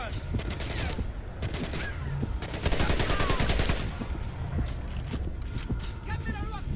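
Gunfire in the video game Splinter Cell Conviction, on an Iraq map: bursts of rapid shots and scattered single cracks come close and fairly loud, with mechanical clatter between them.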